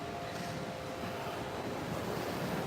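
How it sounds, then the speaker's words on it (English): Ocean waves wash in on a morning beach, a steady soft roar of surf with light wind, moderately distant and continuous throughout with no voices. "Ooh, we've got some nice waves this morning."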